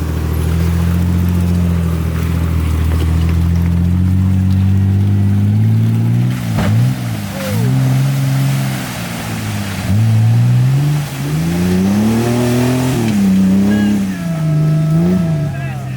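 A full-size Jeep WJ engine labors loudly on a rocky off-road trail, the steady drone rising and falling in pitch as the throttle swells and eases, close and continuous.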